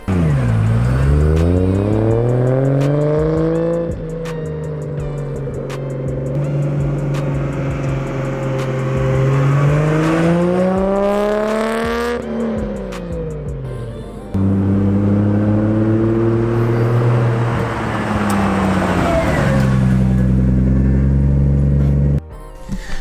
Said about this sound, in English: This is the high power exhaust. Catback sounds good.